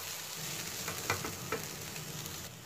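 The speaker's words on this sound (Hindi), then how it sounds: "इसको तो भी ज़रा सा फ्राई करेंगे बस थर्टी सेकेंड के लिए" Cutlet mixture frying briefly in a pan, a soft continuous sizzle with a few light stirring scrapes, fairly quiet and without voices.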